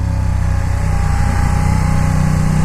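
Ducati XDiavel S motorcycle engine running loud and close, a steady throbbing rumble holding at a fairly constant pitch rather than climbing through a rev.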